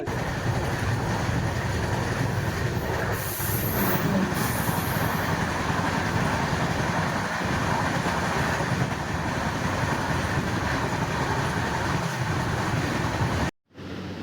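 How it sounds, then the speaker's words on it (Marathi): A passenger train travelling on the railway toward Haridwar, heard from inside as a steady, loud rumble and roar with faint rhythmic clatter that continues unbroken throughout. "नंतर आपण चालू केला आपला ट्रेनचा प्रवास."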